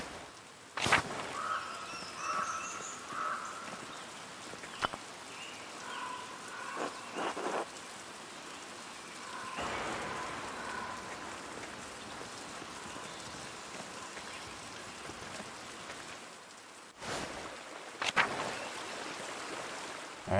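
Waterfall in the video game Pentiment gives a steady, rain-like rush of water throughout, with occasional soft thumps and faint game chimes over it and no talking.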